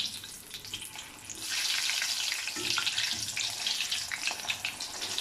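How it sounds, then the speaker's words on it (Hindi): Chapli kabab sizzles gently on low flame in a pan, a soft continuous frying hiss that swells slightly partway through, fairly quiet and without talk. "अब इसको आहिस्ता से हल्की आग पे पकाते हुए हमें दोनों साइड से गोल्डन करना है।"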